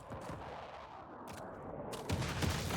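Artillery and gunfire boom in a Call of Duty WWII battle, a dense continuous rumble of blasts with a louder heavy hit near the end, without speech.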